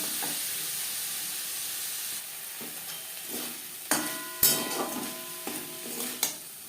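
Shrimp fry over high-to-medium flame in a pan with a steady sizzle, joined partway through by repeated metallic scrapes and knocks of a spatula stirring them.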